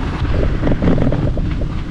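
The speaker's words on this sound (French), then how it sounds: "on a quand même aussi du vent de face" Loud, continuous headwind buffets the microphone while cycling along a rail-trail greenway, a dense low roar with rapid gusting flutter throughout and no voices.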